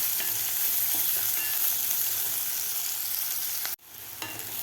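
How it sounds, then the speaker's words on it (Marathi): Chopped onion sautéing with ginger and garlic for flower bhurji gives a steady, close, dense sizzle with stirring scrapes, briefly cutting out near the end before the frying noise resumes, with no talking. "आता कांदा आपल्याला 2 मिनिटासाठी व्यवस्थित परतून घ्यायचा आहे."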